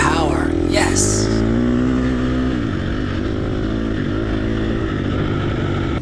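Race car engine held at full throttle in third gear on a racing straight, a loud continuous drone with steady harmonics that rises slightly then settles, close and dominant throughout, with no talk over it.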